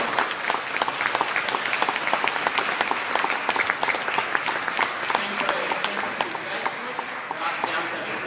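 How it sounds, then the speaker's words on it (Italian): Audience applause at a San Gregorio concert, steady close clapping from many hands throughout with a bright, continuous texture. "Grazie, un applauso anche a loro."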